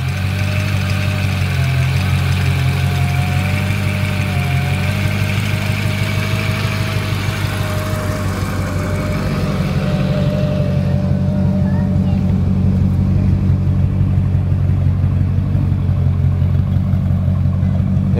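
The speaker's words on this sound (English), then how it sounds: "the idle definitely sounded a little funny when I first started up" A Mercedes CLK55 AMG engine idles steadily after its first start following a long sit, a continuous close, loud and slightly uneven rumble, with a faint voice murmuring under it early on.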